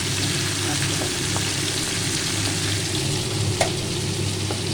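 Pabda fish with tomato fry in hot oil, giving a constant, close crackling sizzle with occasional sharper pops and spatters.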